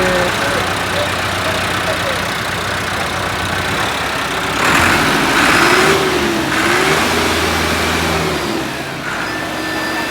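A 100 HP B4100 tractor engine runs steadily up close, its deep rumble rising briefly as it revs, with some indistinct voices in the background.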